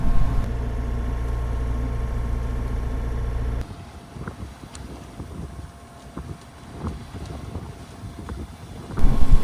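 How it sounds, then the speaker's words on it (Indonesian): Steady wind buffeting the microphone out on open water off Norway, with a low motor drone at first, then gusty rushing and splashing. "akhirnya ada angin. Tapi anginnya ini nggak super strong"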